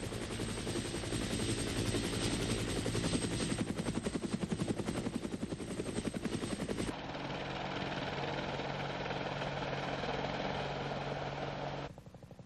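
A Russian Mi-8 military helicopter gives off a rapid, steady rotor chop with a droning engine underneath, loud at first, then smoother and quieter partway through, with the sound changing again near the end.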